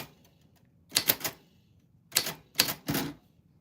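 Keys clack on a typewriter in two quick clusters of loud, crisp strikes, with a short pause between them against a quiet room.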